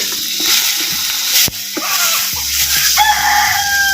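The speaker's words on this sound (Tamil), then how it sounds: "சேர்த்த தக்காளி பழத்தை அப்படியே நல்லா கிண்டி விடுறோம்" Tomatoes being stirred and fried in oil for a chutney, a steady close sizzle with clattering stirring strokes, while a rooster crows nearby and other background sounds come and go.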